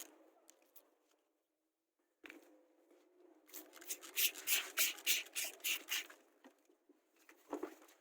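Rapid rhythmic rubbing strokes, wet and gritty, scrub back and forth up close as sandpaper and water work a car headlight after a brief pause, growing louder and then trailing off.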